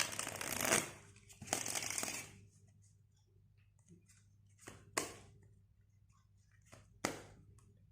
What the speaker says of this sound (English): I hand over the deck to the spectator by which he can shuffle it